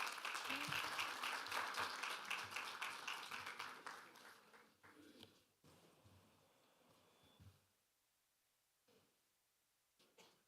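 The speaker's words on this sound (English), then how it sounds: "A round of applause as they come, please." An audience at a trade development forum applauds as people come up on stage, a fairly close wash of clapping that stays steady for several seconds, then thins out and fades to a few scattered claps.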